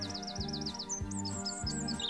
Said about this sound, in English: All the birds are singing.